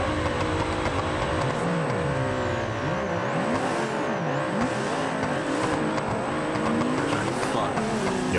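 Cars in the BeamNG driving game rev and wail as they speed and drift down a street, engine pitch sweeping up and down continuously with occasional tire squeal, loud and close throughout.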